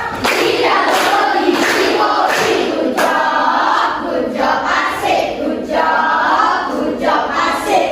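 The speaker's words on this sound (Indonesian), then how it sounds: "Kasih tepuk gucap dulu buat Angel." A class claps in a loud, steady rhythm, a clapping chant filling the classroom with a beat of many hands.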